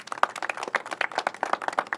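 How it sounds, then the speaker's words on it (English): Audience applause at a public safety announcement by the governor, honoring a retiring police chief: brisk, close individual claps from a modest crowd, rhythmic and uneven, continuing loudly for a couple of seconds. "Let's give her a round of applause."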